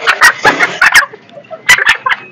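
Chickens on a farm, including a bearded breed, cluck loudly and close by in quick, irregular bursts with brief pauses between them.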